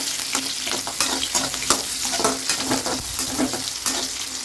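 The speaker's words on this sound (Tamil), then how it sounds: "இஞ்சி, பூண்டு, பச்சை மிளகா, நம்ம கட் பண்ணி வச்சுருக்க வெங்காயம் எல்லாம் சேர்த்து நல்லா வதக்கிக்கலாம்" Ginger, garlic, green chilli and chopped onion sauté in hot oil for an empty kuruma, giving a steady close sizzle broken by frequent scraping stirs and light clinks, with no talking.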